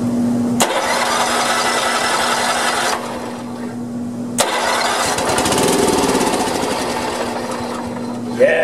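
A Honda 3011 riding mower's engine cranks loudly with a whirring starter, stops, then cranks again and catches, running on with a steady close mechanical drone.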